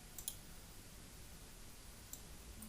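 A computer mouse clicking while drawing an entity relationship diagram, a quick faint double click near the start and another soft click later, very quiet and isolated over low room hiss.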